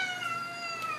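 A cat gives a single drawn-out meow, close and clear, with a tonal, wavering pitch lasting about a second.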